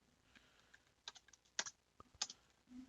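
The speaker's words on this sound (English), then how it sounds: "I am not good at typing." Computer keyboard typing, scattered sharp key clicks in irregular bursts, close and fairly quiet, with no talking.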